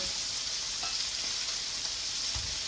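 Butter sizzles in a hot pan of seared scallops, a dense, steady frying hiss that carries unbroken and close for the whole stretch, with a faint low thump near the end.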